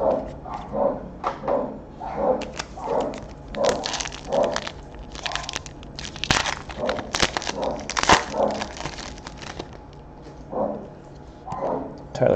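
Several dogs barking repeatedly at close range in irregular bursts, with clattering and crunching noises mixed in and a steady low hum underneath.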